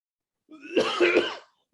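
A single harsh cough with a couple of quick bursts, close and clear, in otherwise quiet surroundings.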